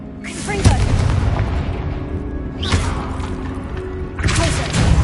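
Confringo explosive curse blasts from a wand in Hogwarts Legacy, booming three times at irregular intervals over a constant layer of game music and ambience.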